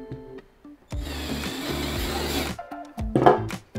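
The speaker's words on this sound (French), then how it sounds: "Donc c'est une perceuse à percussion." A hammer drill set to second speed at full torque bores in two bursts: a long, loud grinding whir followed by a shorter one, with quiet pauses between.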